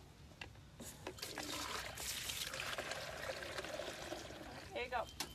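Water poured and trickling into a bucket as a steady splashing stream for several seconds, with people talking nearby and some clatter over it.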